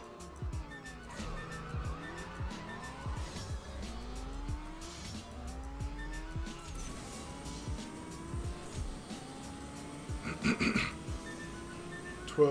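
A Mazda Veilside RX-7 in a CSR Racing 2 drag race revs up repeatedly, its engine pitch climbing and dropping with each gear shift, punctuated by tire squeals and a burst of noise near the finish.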